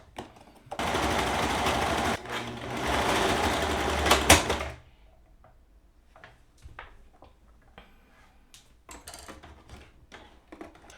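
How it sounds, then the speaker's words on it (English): A serger overlocks the edge of a fabric pocket in one loud, fast, steady whir of about four seconds. Quieter ticks and clicks follow as the machine stops. "now I'm about to try to serge it to make it look professional and even"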